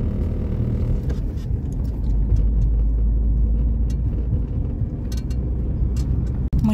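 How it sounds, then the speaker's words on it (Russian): Car driving along a terrible, potholed rural road in Kazakhstan, a steady loud low rumble of tyres and body jolting over bumps throughout, with a sharp knock near the end. "Дорога вообще ужасная, как на коне как будто скачем."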